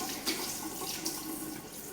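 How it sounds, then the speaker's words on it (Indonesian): Hands rinsed under a running tap, a steady soft splash of flowing water at moderate distance with slight surges, no voices. "Kemudian kita basuh kembali dengan air mengalir"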